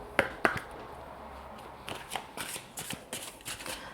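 Tarot cards shuffled by hand before a love reading, a soft papery riffle with a couple of sharp snaps early on, then a run of quick flutters, close and fairly quiet.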